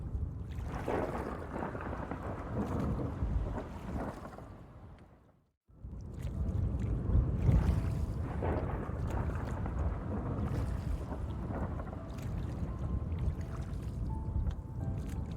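Roaring, gusting wind and rushing water churn loudly and continuously, dropping briefly to near silence before surging back.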